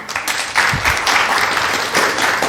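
Studio audience applauding on a French talk show set, a loud, fairly close wash of clapping that pulses in uneven swells across the moment.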